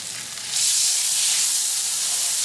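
Bologna burgers cook on a griddle, giving a loud, close sizzle and hiss that swells after a short quieter start and then holds steady.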